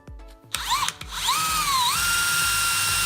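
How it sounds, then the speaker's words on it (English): A DeWalt XR 20V Max hammer drill spins up and whines steadily as it bores into wood, with a few short bursts before running continuously, close and loud. "Obviously, it's an excellent wood drill."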